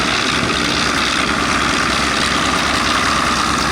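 A piston-engine warbird flies a display at the Sywell Airshow 2024, its engine a loud, steady, broadband drone that stays constant for the whole stretch with no talk over it.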